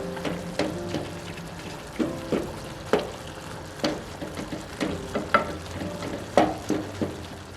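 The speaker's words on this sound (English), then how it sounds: "I like to caramelize my meat a little bit to give it a little bit extra flavor." Meat caramelizes and fries in a hot pan for a childhood dish called We-Po, giving a close, steady sizzle punctuated by regular spatula scrapes and stirring knocks, with no voices.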